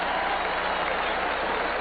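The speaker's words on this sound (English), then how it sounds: "You can hear the crowd reaction." A stadium crowd at a 1978 Raiders at Packers NFL football game roars steadily, a dense, continuous wall of cheering that holds at an even level throughout.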